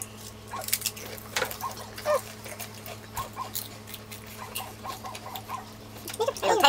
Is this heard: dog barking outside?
yes